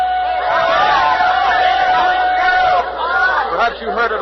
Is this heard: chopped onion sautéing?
no